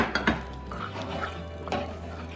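A spoon stirs fermented corn pap (akamu) with water in a pot to dissolve it, giving a few light scrapes and knocks against the pot over a low background hum.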